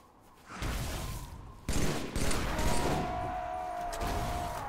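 Rapid gunfire bursts from Halo 3 during a Legendary-difficulty campaign mission, loud and dense, with thuds and booms layered over sustained battle noise.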